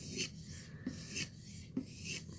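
A blade is drawn over a sharpening stone in three slow, regular strokes, each a soft dry rasp with a faint crunch as the small burr breaks off, quiet and close.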